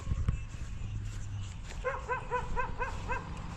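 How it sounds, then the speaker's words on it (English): Diesel the dog barks in a quick series of short, evenly spaced yips in a garden, fairly close and clear over a low background hum. "That's Diesel barking at me."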